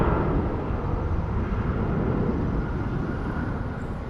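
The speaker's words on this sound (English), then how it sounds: "the plane that we're hearing is a Southwest that's headed to Long Beach" A Southwest airliner departing Phoenix Sky Harbor toward Long Beach, heard as a steady, loud low-frequency engine roar that stays constant throughout, with no voices.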